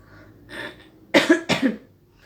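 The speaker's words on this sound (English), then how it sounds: "This is what happens when I'm having these cough attacks." A short coughing fit: a couple of soft throat sounds followed by three harsh, close coughs in quick succession.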